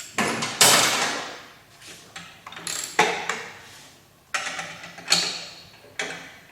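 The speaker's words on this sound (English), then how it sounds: "One of the bolts here is reversed. So we're going to switch up sockets and wrenches for this one." Sockets and wrenches being swapped and worked on a reversed bolt while fitting a rear shock on a 2008–2014 Honda CBR1000RR: sharp metallic clanks and ratcheting clicks, close and loud, in irregular bursts with short decays between.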